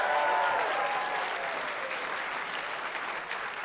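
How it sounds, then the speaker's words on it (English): Comedy club audience applauding during a stand-up set, dense steady clapping close and loud throughout with a faint crowd murmur. "Keep clapping, keep clapping."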